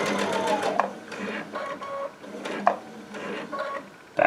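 A Baby Lock Altair sewing machine stitching binding onto a quilt, its needle whirring in short runs of even, rapid mechanical clatter with brief pauses between them.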